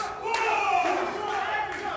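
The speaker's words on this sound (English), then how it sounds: "Corey firing up this crowd to get behind Joe Scott." At a wrestling event, a crowd roars and yells together, a loud, sustained cheer with voices rising and falling over about two seconds.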